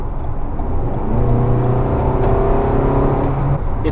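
Loud, close engine of a 2019 Toyota RAV4 XLE accelerating, its revs rising as a strained mid-pitched drone across several seconds, heard from inside the car.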